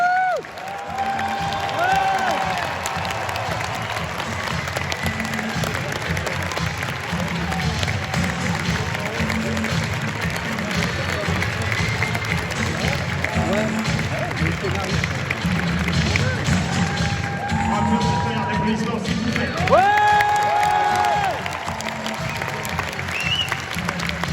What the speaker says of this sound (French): Je vous demande de faire un tonnerre d'applaudissements à Gil Kenan et Jason Reitman.